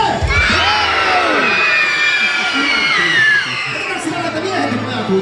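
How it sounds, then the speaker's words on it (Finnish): A large concert audience, children and adults, shouts together at full volume on a count of three, a sustained loud mass of cheering and yelling that holds for several seconds before easing. "minä lasken täältä kolmeen ja huudetaan kaikki yhdessä"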